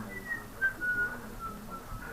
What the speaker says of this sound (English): I can hear people whistling the little tune we use